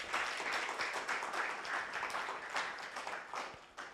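An audience at a coaching summit gives a full round of applause, with dense steady clapping that starts to fade near the end.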